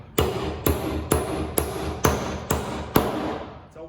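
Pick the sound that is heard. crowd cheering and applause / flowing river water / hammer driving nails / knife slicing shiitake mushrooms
hammer driving nails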